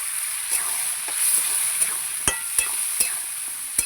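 A Bengali spice paste loosened with a little water fries in a pan, a steady close sizzle broken by several sharp scrapes and taps of a stirring spoon, with no voices.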